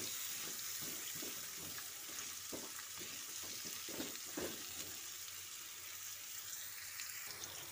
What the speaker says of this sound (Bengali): নুন আর হলুদ দিয়ে ভালো করে ভেজে নেব পটলগুলো লাল লাল করে